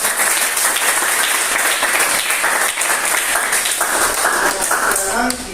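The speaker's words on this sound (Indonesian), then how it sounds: "Sekali lagi tepuk tangan dulu." Classroom applause, with students clapping together in a loud, close, fast patter that runs steadily, then thins at the very end into a brief pause.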